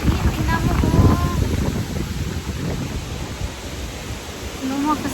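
Strong wind roars and buffets against the microphone outdoors at Horseshoe Mound Preserve in Galena, Illinois, in fall. The gusting is loud and steady, and a voice speaks briefly over it.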